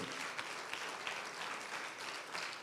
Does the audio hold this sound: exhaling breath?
no